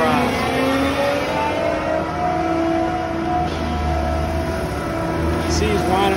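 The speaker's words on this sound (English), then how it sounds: "The motor just got louder and the drum is spinning faster." Heavy engine of a concrete mixer truck revs and winds up steadily while its drum spins faster, a loud continuous rumble with rising tonal whine; someone talks over the noise throughout.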